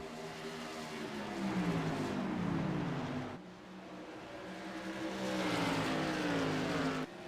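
Race cars battling for the lead at Richmond on opening night: loud engines roar and rise in pitch, fade briefly as one car passes, then a second wave of engines climbs again, close and steady with no talking.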